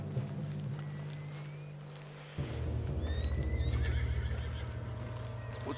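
In the video game Red Dead Redemption 2, a horse whinnies with rising, squealing calls over a steady low engine-like drone, hoofbeats clopping along underneath.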